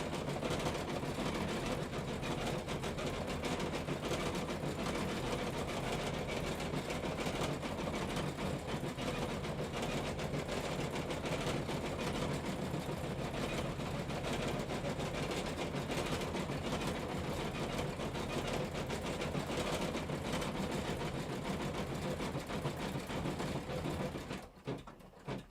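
A CM17 embroidery sewing machine test-stitching Christmas bunting runs continuously in a dense, even mechanical whir for nearly the whole stretch, steady and fairly close, then stops abruptly near the end.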